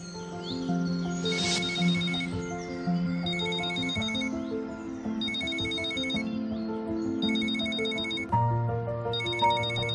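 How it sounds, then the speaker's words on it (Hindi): A phone rings with a repeated electronic ringtone, bright trilling bursts recurring every couple of seconds, loud and close over soft background music. "तुम्हारा फोन बज रहा है।"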